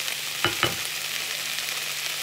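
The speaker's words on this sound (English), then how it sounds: "Frying it off." Onions sizzle in a pan for a Spanish omelette, a steady bright frying hiss broken by two quick metallic stirring taps near the start.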